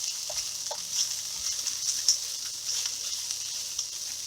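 Hash browns frying in a pan, a continuous quiet sizzle with small crackles popping here and there, no talk over it.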